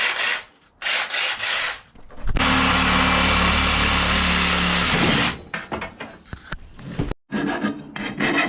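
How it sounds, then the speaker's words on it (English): A handheld jigsaw cuts in a steady, loud, buzzing rasp for about three seconds, framed by shorter scraping and rubbing bursts before and after. "I've got a jigsaw in my hands."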